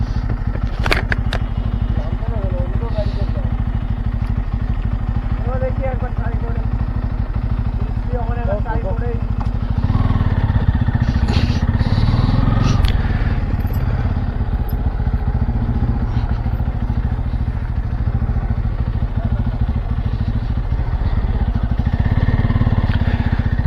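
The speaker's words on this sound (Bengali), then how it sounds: "তো গাইজ আমরা বিচের সামনে যাচ্ছি বাইক নিয়ে" A motorcycle rides along a sandy jungle track toward a beach, its engine a steady loud drone with clattering and crackling over rough ground, while people talk throughout.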